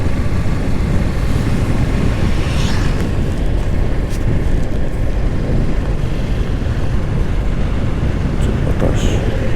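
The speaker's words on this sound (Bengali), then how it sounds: "প্রচুর কুয়াশা, সেই সাথে বাতাস।" Wind roars past a motorbike ridden through thick fog on a bypass road near Keraniganj. A loud, constant, buffeting rumble fills the whole stretch and barely varies.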